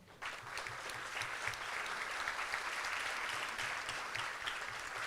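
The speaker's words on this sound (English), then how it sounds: "Please give them a round of applause." A crowd at a high school graduation applauds steadily, a dense, even clatter of many hands clapping that carries on throughout without pause.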